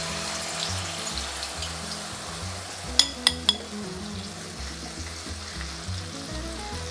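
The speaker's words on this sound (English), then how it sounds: "Heat oil in a wok. Thai omelets need high heat and hot oil" A Thai omelet fries in hot oil in a wok over high heat, a soft steady sizzle with a few sharp metallic clinks midway, no voices.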